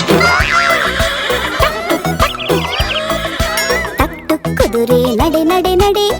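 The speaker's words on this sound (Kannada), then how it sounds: "ಕೆಣಿಯುವ ಕುದುರೆ ನಡೆ ನಡೆ ನಡೆ" A horse neighs over the bouncy music of a Kannada children's rhyme about a horse, its whinny rising briefly above the busy singing and instruments.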